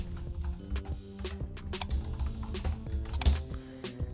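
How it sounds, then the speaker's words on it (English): Fingers tapping out a website address on a computer keyboard, a quick irregular run of close, crisp key clicks with brief pauses between bursts, no voices. "I'm typing here my website URL"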